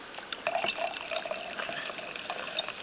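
Sparkling Pignoletto Frizzante wine pouring into a glass, a steady liquid trickle and fizz heard close up with no talking.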